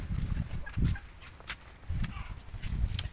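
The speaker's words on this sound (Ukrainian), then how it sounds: "Ось такі індики." Turkeys call and gobble in short, low bursts against steady outdoor background noise, several close by.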